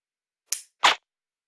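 Two sharp dry-fire clicks from a Smith & Wesson SD9VE pistol fitted with a laser training cartridge, the first a short crisp snap and the second a louder, fuller clack about a third of a second later, close and alone in silence.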